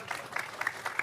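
Audience applause at a town-hall question-and-answer session with Anies in Samarinda, a brief patch of steady clapping from a seated crowd, moderately loud and even throughout.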